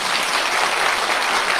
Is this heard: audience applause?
yes